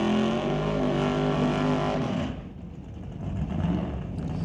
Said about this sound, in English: Love watching that car go down the track